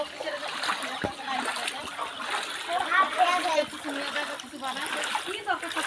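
Splashing and sloshing of someone wading through waist-deep water of the Teesta river, continuous and close, with voices talking over it.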